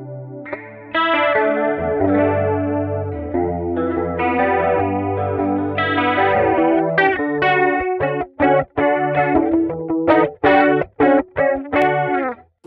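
Electric guitar played through Line 6 Helix amp models, the Clarity and Supro Ellipse, with a lush CE1-style chorus, strums sustained chords and then shifts to choppy, rhythmic stabs, loud and close with no talking.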